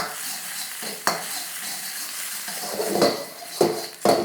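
Egg stir-fried in oil in a wok: steady sizzling and frying with a spatula scraping and stirring, plus several sharp clanks of metal on the pan near the end, close and fairly loud, no talking.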